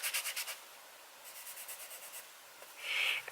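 Paper from a Khadi hot press sketchbook being rubbed and handled, with soft rhythmic scratchy strokes in two bursts and a short louder rustle near the end, close and fairly quiet.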